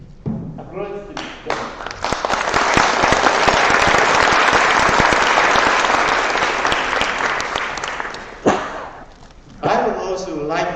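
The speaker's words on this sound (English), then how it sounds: "Please applaud them." Large audience applauding in a contest award-ceremony hall: dense, sustained clapping swells loud for several seconds, then thins and fades, with a voice speaking at the start and again at the end.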